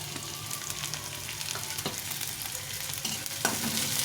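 Onion and chopped garlic frying in oil, a steady close sizzle with crackling pops and a few stirring knocks, growing slightly louder near the end, no talk.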